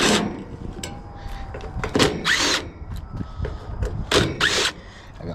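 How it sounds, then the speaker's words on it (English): Water-soaked Craftsman power drill running in bursts, loud and close, its whine rising and falling in several short pulls with brief pauses between. "Got water in every inch of my drill, but it's a Craftsman, so it's gonna keep going."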